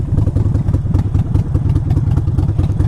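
A Harley-Davidson Sportster motorcycle rides up a mountain road, its V-twin engine giving a loud, lumpy, rapidly pulsing exhaust beat close by with no talk.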